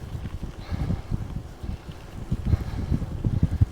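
Wind buffets a microphone outdoors as low, uneven rumbling gusts that go on throughout and swell toward the end. Nothing else stands out over it.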